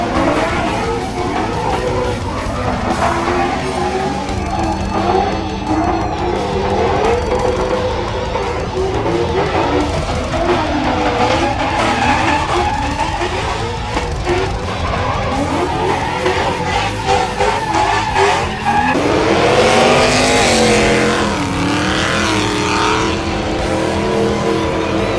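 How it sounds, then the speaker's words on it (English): Drift cars at an outdoor car show roar and rev continuously while tires squeal and skid in long, wavering screeches, loud and close, building to an intense howl near the end. "Marvel at the high-skill outdoor drifting car show."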